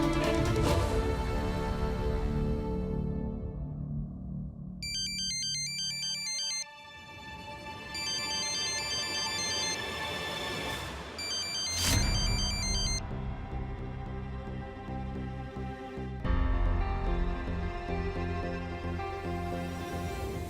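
A phone ringtone plays at length during a call, a bright repeating electronic melody with steady beeping pulses over a sustained tone, loud and alone without talk.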